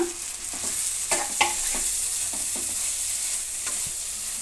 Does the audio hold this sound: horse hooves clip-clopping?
no